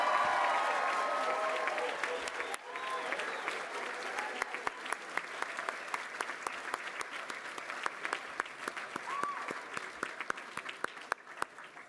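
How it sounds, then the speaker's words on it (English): A graduation ceremony audience at the University of West London gives a long, sustained round of applause for the graduates, dense clapping that stays steady for the whole stretch and thins slightly toward the end. "And another huge round of applause for all of those graduates."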